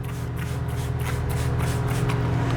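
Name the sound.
spray bottle spraying down orchid flask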